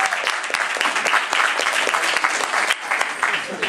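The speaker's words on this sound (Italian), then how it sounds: "un applauso a Manuel" A studio audience at a comedy evening in Camerota bursts into dense, sustained applause, loud and close, with a few voices mixed in.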